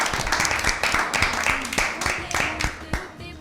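An audience applauds a correct answer at an Easter Bible quiz show, a steady run of crisp, fairly close clapping lasting a few seconds with no talk over it.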